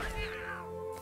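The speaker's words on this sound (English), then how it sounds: "I mean, catch that kitty cat, Nick." A cartoon cat in South Park: The Fractured But Whole video game lets out a single loud, drawn-out meow with a falling pitch over game background sound.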